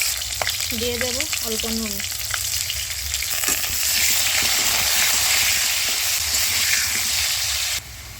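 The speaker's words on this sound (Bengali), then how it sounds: "তেল গরম হয়ে গেছে। আলুটা আমি এক এক করে দিয়ে দেবো।" Potatoes sizzle and crackle in hot oil, frying steadily and close up, with a short spoken line at the start before the sizzling grows louder.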